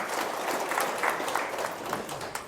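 An audience at an Indonesian religious talk claps briefly, a modest, somewhat distant patter of hands lasting a couple of seconds under faint room noise, without speech.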